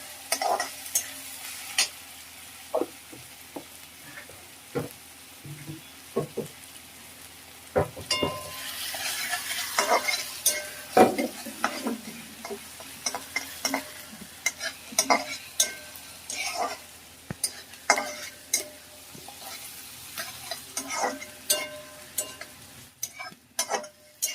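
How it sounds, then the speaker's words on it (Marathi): Green chillies, thick-cut and very hot, sautéed in a pan, crackling and sizzling steadily with frequent scraping stir strokes and light clinks of a spoon against the pan, fairly close, with no talking. "त्याला व्यवस्थित परतून घेऊया आपण"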